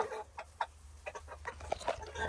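Several chickens and roosters cluck and murmur close by in short, overlapping calls, a busy flock sound at moderate volume.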